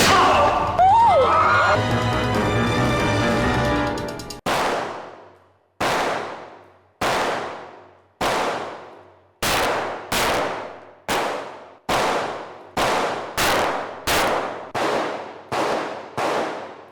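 Music fades out, then about a dozen loud, sharp pistol shots at a firing range ring out one by one at a steady pace, each leaving a short echoing tail.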